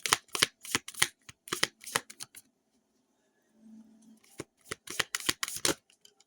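A deck of oracle cards is shuffled close by in rapid riffling bursts, pausing briefly midway before the brisk shuffling resumes.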